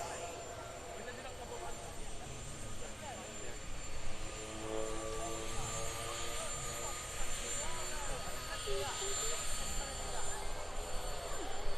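A Pilatus PC-7 turboprop flying a slow roll with landing gear and flaps down at an airshow, its engine a continuous, moderately distant drone under a commentator's voice.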